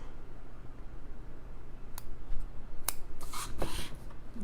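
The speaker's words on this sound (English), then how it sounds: "Get my pretty little angel scissors." A few quick metallic snips and clicks of small scissors close by, sparse and light over quiet room tone.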